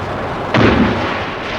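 A single heavy blast from aircraft bombing and strafing a fleet anchored in a bay during the Falklands War erupts over a steady background rumble, then trails off into a sustained low roar.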